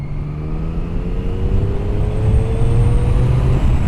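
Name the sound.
Triumph Daytona 675 motorcycle engine, roll-on acceleration in 6th gear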